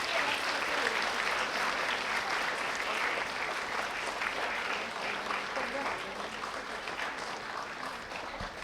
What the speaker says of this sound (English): Let's have a huge round of applause for all the awardees.